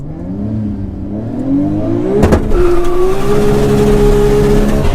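An 800 hp Nissan GT-R R34 accelerates on a quarter-mile drag run, its engine note climbing steadily through the gears with a sharp shift burst midway and a loud, sustained roar afterward, heard without talk.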